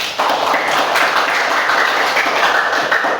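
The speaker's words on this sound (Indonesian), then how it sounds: "kasih tepuk tangan untuk temannya" Classroom applause for a classmate's presentation: steady, dense clapping from a group of students fills the whole three seconds at even loudness, with no pauses.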